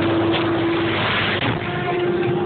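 Fendt 716 tractor engine running with a Gaspardo three-metre cultivator, a steady loud diesel drone with a constant hum, close and unbroken throughout.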